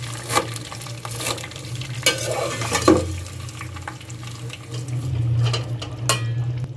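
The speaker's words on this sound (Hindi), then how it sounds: "घी के अंदर डालती हूँ सेवइयाँ" Vermicelli stirred as it fries in hot ghee, an uneven sizzle with intermittent scrapes and clinks of the spoon against the pan, close by over a low steady hum.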